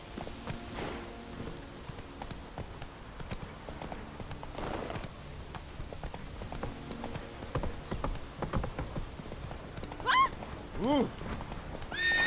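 Roach, a horse in a video game, gallops with a steady run of hoofbeats throughout, followed near the end by a couple of clear neighs over the ongoing hooves.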